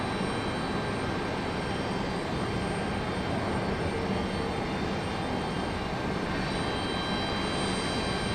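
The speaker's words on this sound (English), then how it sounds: "we missed our JetBlue A220 passing through the beautiful sunlight there" Steady, broad roar of a JetBlue Airbus A220 airliner passing an airport viewing spot, a continuous engine rush holding at an even, moderate level from start to finish with no voices.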